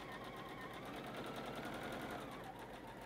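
A sewing machine stitches a fabric table runner, running in a continuous quiet whirring hum with a fast, even needle rhythm, close by and with no talking.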